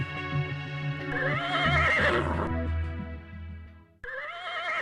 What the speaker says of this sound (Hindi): ये घोड़ा एकदम असली है और अरबी नस्ल का है